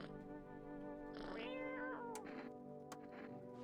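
A cat in the horror video game No I'm Not a Human lets out a couple of soft, faint meows over a low steady hum, with a brief remark spoken nearby.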